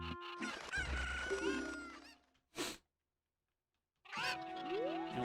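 A chicken clucks and squawks in an N64-era video game, a busy run of bird calls, a short burst, then silence before the clucking resumes, moderately loud with no talk.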